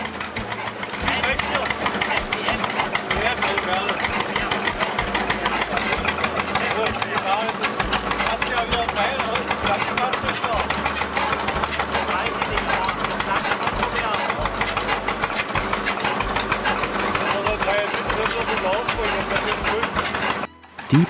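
A stationary engine bolted to skids powers a cone log splitter, running with a steady, loud, throbbing mechanical rumble that continues nearly unbroken for about twenty seconds before cutting off.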